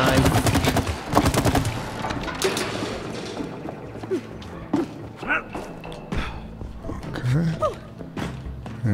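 Rapid bursts of gunfire in the co-op video game It Takes Two, a dense clatter of shots up front followed by scattered thumps and blasts, with players talking over the action.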